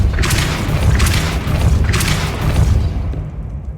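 Depulso force spell cast in Hogwarts Legacy, heard as three loud booming thuds evenly spaced about a second apart, each with a bright crackling burst, fading to quiet at the end.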